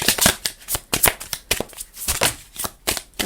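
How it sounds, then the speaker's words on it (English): Tarot cards are shuffled by hand close up, giving a quick series of crisp riffling bursts with short gaps in an uneven rhythm, and no talking. "Sorry, I just realised I was not shuffling on camera."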